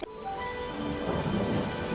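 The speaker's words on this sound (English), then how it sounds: "as the rain started" Cartoon rain and thunder, a low rumbling thunder roll swelling beneath steady rain patter, short and fairly loud with no voices.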